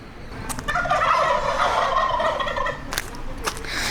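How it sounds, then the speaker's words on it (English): Several wild turkeys in a park gobble close by, a loud rolling gobble that swells and fades, followed by a few sharper, shorter calls, with no one talking. "Quite a few turkeys over here."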